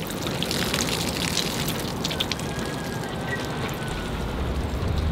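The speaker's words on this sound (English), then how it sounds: "I'll pour the water out" Water pours out of a container of soaking English oak acorns, a steady splashing trickle at close range that runs without a break and with no talk.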